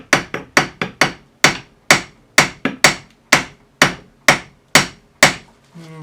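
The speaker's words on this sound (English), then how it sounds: "I'll come above and just give it a tap with a hammer." Sharp hammer taps strike a Porsche 928 steering rack's splined shaft resting over a block of wood, about fourteen crisp, ringing blows in a quick, uneven rhythm, close and loud.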